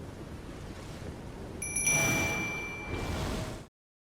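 A bright chime-like notification bell ding with ringing tones over a soft whooshing background, played once as a short sound effect before fading out.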